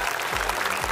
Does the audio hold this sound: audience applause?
yes